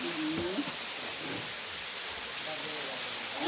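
Water pours from above into a pool at a small waterfall and makes a continuous broadband rushing hiss. It stays steady throughout, with faint voices in the background.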